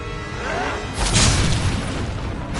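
A Confringo spell blast in the Hogwarts Legacy video game, a dense roaring boom that swells midway through a loud continuous wash of game noise.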